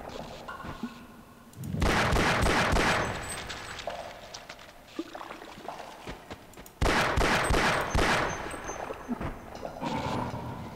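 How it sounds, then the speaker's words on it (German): Gunfire in the video game Half-Life, two loud bursts of rapid, crackling shots separated by a quieter stretch, set against faint game ambience and music. "Komm, noch ein Schuss."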